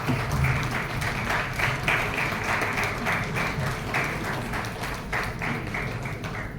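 Applause from an audience at a lawyers' association talk, steady crowd clapping that fills the whole stretch at moderate loudness with scattered sharper claps and no speech over it.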